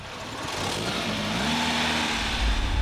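A 1976 VW Golf GTI MK I hot hatch engine hums and builds steadily while driving, a continuous mid-pitched drone rising in pitch, heard from inside the car without talk.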